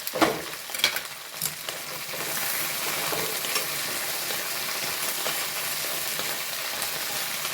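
Chili stirred in a frying pan for sambar: a few knocks and scrapes at the start, then a steady, close crackling sizzle that holds evenly to the end without talk.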